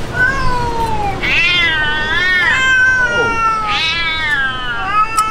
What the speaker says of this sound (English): we have another cat here right at Forbes Town